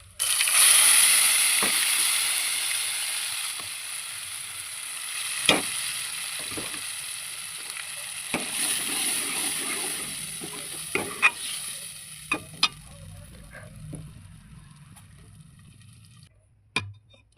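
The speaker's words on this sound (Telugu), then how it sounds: "ఈ విధంగా మొత్తం పప్పు వేసుకొని మంచిగా కలుపుకుందాం." Ground lentil paste tipped into a hot pan and stirred in for a Telugu-style dal curry, giving a steady broad sizzle with scattered sharp spoon clinks and scrapes against the pan, close and clear with no talking.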